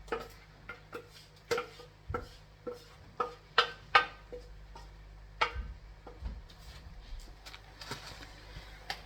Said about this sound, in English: we're going to chop some more onions